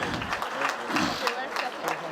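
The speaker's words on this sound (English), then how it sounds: "Can we have a thunderous applause even as the scores come up?" Applause from an audience at a campus quiz competition in Dubai fills the space, a steady wash of clapping with a voice talking faintly beneath it.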